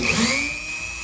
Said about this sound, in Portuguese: Venho aqui com a minha furadeira, já com a broca, e começo o processo de furo